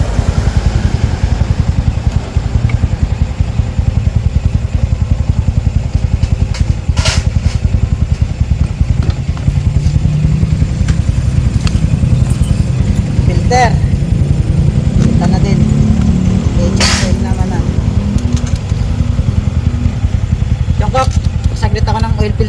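A Yamaha Sniper 155 motorcycle engine runs during a test after a crankcase oil seal repair, a loud, steady low-pitched rumble that continues throughout with occasional sharp clicks over it.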